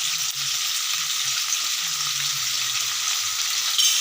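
Onion sizzling steadily in hot oil in a pan for an Arabic-style fried tuna dish, a continuous bright crackle with faint stirring scrapes underneath, close and even throughout.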